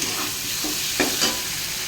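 Masala spice paste for a taro curry sizzles in a pan, a continuous close frying crackle broken by a couple of brief stirring scrapes.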